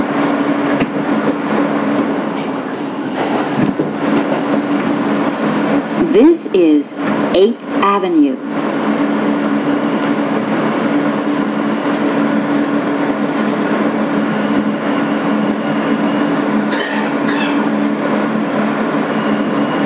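A 2008 Kawasaki R-160B N local subway train, car #8842, rumbles steadily on the BMT Sea Beach line with a loud continuous interior drone. A brief squeal comes partway through, and an automated announcement plays over the noise.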